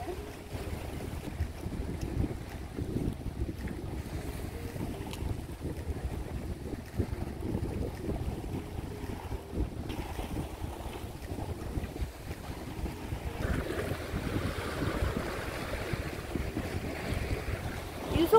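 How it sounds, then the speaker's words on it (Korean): Strong wind blowing steadily across a rocky island coast, a constant rough roar battering the microphone with rushing water and surf beneath, continuing without a break for the whole stretch and no voices. "바람이 진짜 너무 세."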